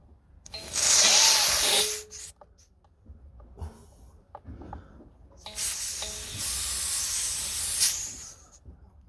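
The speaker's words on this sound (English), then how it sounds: "So we're going to open the valve." Compressed gas hisses loudly from a valve opened during a DIY pressure test on a puncher setup, in two long bursts separated by a quieter gap with faint handling noises.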